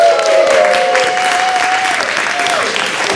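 A live audience at a Valley Humane Society event breaks into loud, sustained applause. The dense clapping continues unbroken for about three seconds.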